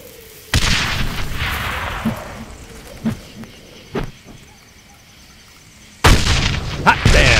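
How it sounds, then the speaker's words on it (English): Stick grenades exploding in the World War I shooter Darkest of Days, a loud sharp blast at the start with rumbling decay, a few smaller pops and thumps in between, then another heavy explosion near the end. "These are standard issue stick grenades. Just aim and let them fly."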